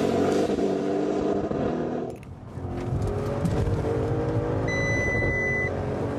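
An Audi RS6 Plus estate weighing over two tonnes drives hard on a race circuit, its engine roaring loudly and steadily, briefly dropping off before surging again.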